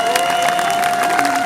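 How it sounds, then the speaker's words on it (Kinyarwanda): Audience clapping and cheering fills a church gathering during a Kigali testimony, a dense steady wash of applause with faint voices mixed in, holding loud throughout. "Nimubanze mumumpera amashyi"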